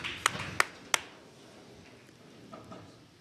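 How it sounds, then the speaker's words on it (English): Commentator clapping for a trick shot at the World Artistic Pool Championship: three crisp, close hand claps in quick succession, then a couple of faint taps against a quiet room. "I was applauding as well."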